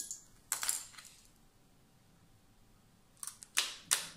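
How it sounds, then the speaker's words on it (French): Small clamps being placed to hold a freshly glued piece, a few sharp clicks and snaps in two brief clusters separated by near silence, close and crisp. "Et je vais mettre des pinces là pour bien le tenir."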